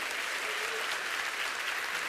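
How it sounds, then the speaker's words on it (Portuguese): A church congregation applauds during a sermon, a dense, steady wash of clapping that holds at full strength for the whole moment with no voices over it. "E aqueles que creem, dêem um forte aplauso ao Senhor"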